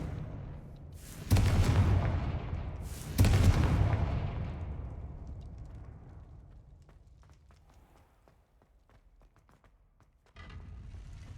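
Two heavy explosive blasts from a fire spell in a wizard video game, one right after the other, each with a booming rumble that fades slowly, then a softer thud near the end.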